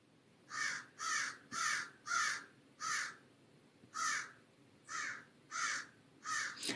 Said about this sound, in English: especially with the crow screaming outside my window right now